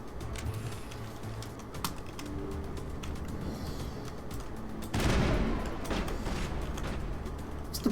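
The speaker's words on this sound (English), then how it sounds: "Time to take the assault rifle." Assault rifle fire in the Mass Effect video game, bursts of rapid shots with clattering mechanical effects over a constant game soundtrack, growing louder and denser about two thirds of the way through.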